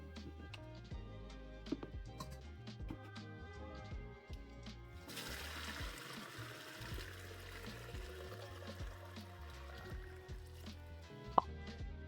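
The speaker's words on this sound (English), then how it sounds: "we're going to strain some of this water into a pitcher" Soaking water for papermaking pours and splashes steadily as it is strained into a pitcher for several seconds, with clinks and small knocks of handling throughout and a brief sharp tap near the end.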